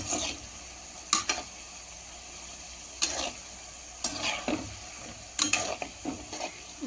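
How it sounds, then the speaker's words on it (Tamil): Wheat flour sweet seedai dough frying in hot oil, with a soft continuous bubbling hiss broken by several sharp stirring clatters and scrapes of a utensil in the pan. "அந்த சலசலப்பு கொஞ்சம் அடங்கினதுக்கப்புறம் நம்ம எடுத்துக்கலாம் எடுத்துடலாம்"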